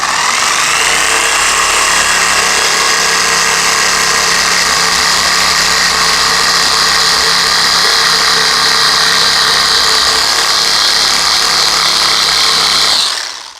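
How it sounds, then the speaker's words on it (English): A 20 mm scraper sander breaks through paint with a loud, steady, close-up buzzing whine that holds unbroken throughout and then cuts off abruptly at the end. "I'm gonna actually be busting through the paint because of the mass and the force of the scraper like this"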